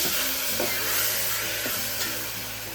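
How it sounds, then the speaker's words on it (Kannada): Onion, green chilies and tomatoes fry in a pan with a steady, loud hiss. A few light stirring scrapes punctuate the sizzle, heard up close without any voices. "ಹಾಕೊಂಡು ಟೊಮೆಟೊ ಎಲ್ಲ ಮೆತ್ತಗಾಗೋ ತನಕ ಫ್ರೈ ಆಗಲಿ."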